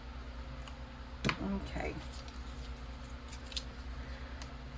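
Scissors snip a paper journal embellishment at close range, with a few short crisp cuts against a low steady hum, followed by a brief spoken word.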